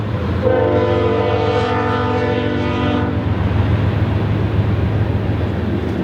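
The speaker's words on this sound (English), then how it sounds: "there's a train going by" A train rumbles past close by, its horn blaring for a few seconds before fading into the steady, heavy roar of the cars.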